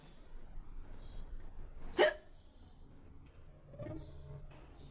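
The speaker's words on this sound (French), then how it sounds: "Je hoquette. Et c'est pas plusieurs petits hoquets faciles à cacher." A single sharp hiccup from a stressed teenage girl in a French film, one sudden burst standing out against a quiet room, followed later by a low muffled sound.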